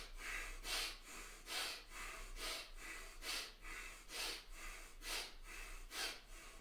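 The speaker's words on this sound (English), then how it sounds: "going to do our 9 breaths" Deep breathing exercise during a martial arts stance session: about nine slow, rhythmic breaths, each a soft airy rush rising and falling at a steady pace, quiet and close, with no talk.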